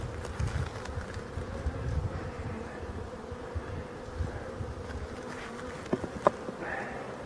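Honey bees buzzing steadily around a beehive that produces very orange wax, a dense continuous drone with a few louder bees passing close near the end.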